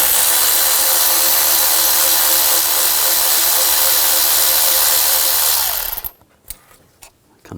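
A power tool runs steadily and loudly for about six seconds, then cuts off, leaving a few faint clicks and knocks as a bolt is backed out with a 10mm socket on a 2006-2010 Hummer H3 3.7L during AC compressor hose work.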